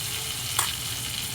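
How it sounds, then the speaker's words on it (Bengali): Potatoes frying in an oiled pan, a steady close sizzle with a brief stir-like burst partway through, no talking. "ভালো করে একটু আলুটা ভেজে নেব।"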